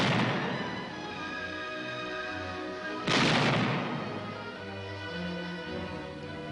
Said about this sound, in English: maximum advantage was made of long-range direct tank fire and small, hard-hitting tank elements to maintain the lines